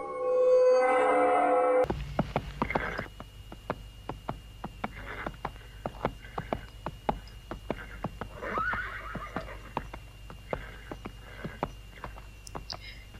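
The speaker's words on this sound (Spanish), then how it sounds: "escucharon resonar los cascos de un caballo" A horse whinnies loudly at the start, then slow, distinct hoof clops follow one after another, ringing out in a quiet setting.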